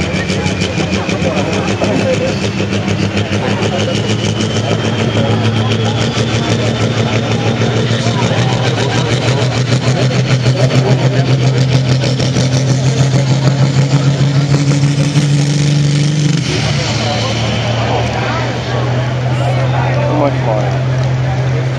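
A Cummins diesel pulling truck in the 8,000-pound class at a pro street truck pull, roaring loudly and steadily at the line before the pitch drops, while an announcer talks over the engine.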